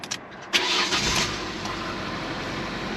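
A car engine cranks briefly and catches, then settles into a steady idle with broadband rumble, close by and fairly loud.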